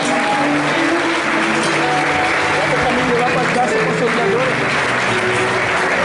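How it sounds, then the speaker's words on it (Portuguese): A church congregation applauds loudly for Jesus, a thick, continuous wash of clapping from many hands, close and strong throughout, with voices mixed in beneath. "Dá uma salva de palmas para Jesus bem forte aí"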